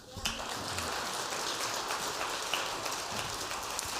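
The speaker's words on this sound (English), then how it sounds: "You guys can clap for them." An audience at a county candidate forum applauds the candidates, a continuous crackling wash of clapping that holds steady throughout, fairly loud and close.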